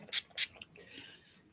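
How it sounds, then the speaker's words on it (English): Two quick bursts of rose water from a spray bottle misted onto a face, each a short soft hiss, heard close in a quiet room with faint rustling afterward. "I just spray my face"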